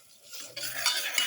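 A spoon stirring black pepper and turmeric powder into beef, a short close scrape and swish of utensil against a bowl, growing louder.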